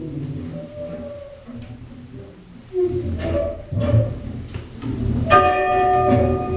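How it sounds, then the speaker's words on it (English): An old bell in an abandoned school in Blackburn, Oklahoma is rung. Quieter clangs build to loud, ringing strikes with long metallic overtones. "allowed to ring the bell"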